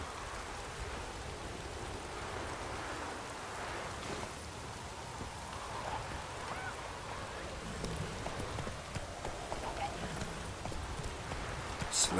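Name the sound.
horse arriving when summoned in The Witcher 3 video game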